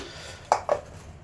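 Two quick clinks sound close by as lids go over bowls of cut potatoes, eggplant and onions in a home kitchen, a sharp knock followed by a softer one, against quiet room tone.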